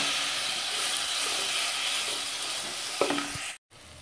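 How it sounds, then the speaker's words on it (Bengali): Cabbage masala with dried chilli powder sizzles steadily in a pan, then water is poured in and a brief burst of hissing and clatter follows before a sudden cut, close and moderately loud with no voices. "এবার আমি এর মধ্যে দিয়ে দিচ্ছি একটু জল।"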